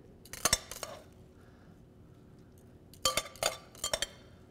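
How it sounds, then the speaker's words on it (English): Salad with crispy potato croutons, tender eggs and tomatoes gets tossed in a bowl: two short bursts of clinking and scraping of utensils against dishware, separated by a quiet pause, fairly soft and close. "I'm going to toss it together real briefly and move it over here."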